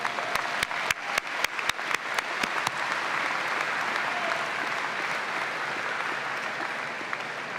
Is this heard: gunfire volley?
no